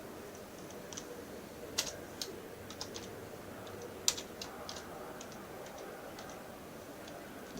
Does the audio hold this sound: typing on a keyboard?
yes